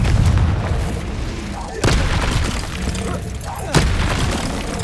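Confringo fire spell blasts in Hogwarts Legacy on Xbox Series X: loud, heavy booming bursts over a rumbling, noisy game backdrop, with two sharp impacts standing out near the middle and end.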